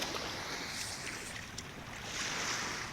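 Rushing river rapids in a wild, natural stretch of water within a city, a steady broad wash of flowing water with airy hiss, heard from a distance and continuous throughout without speech.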